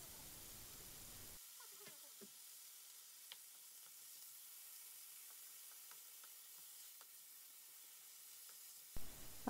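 Kimchi and Spam frying in a pan, a faint, quiet sizzle with a few sparse pops and ticks, soft and steady.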